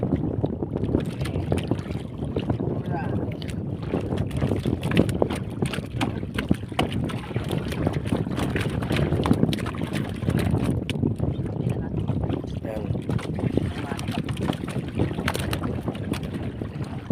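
Strong amihan-season wind at sea, heard from a small fishing boat, roars as a steady broadband rush of gusts and buffeting on the microphone over water noise, continuous and loud throughout.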